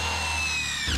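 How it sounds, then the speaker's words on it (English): A power drill whines steadily as it bores a new quarter-inch bolt hole through sheet metal on a 1973 Chevrolet under restoration, a close, loud continuous motor tone that slows and drops off at the end. "So I just drill us a new hole."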